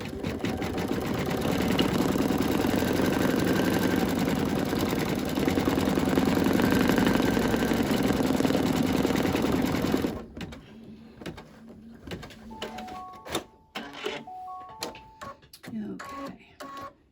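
An embroidery machine stitches a heart design with a steady, loud, fast mechanical whirring and rattling for about ten seconds, then stops, leaving quieter clicks, thumps and handling noises.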